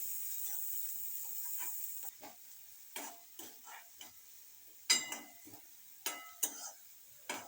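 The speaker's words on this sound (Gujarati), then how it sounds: "અને આપણે ડુંગળી નાખીશું ડુંગળી આપણે આ રીતે સોટે કરવાની છે કલર બદલાય ત્યાં સુધી" Onions sautéed in a pan for sambar: a faint sizzle, then a run of irregular scraping and clinking stirs of a spoon against the pan, with no voices.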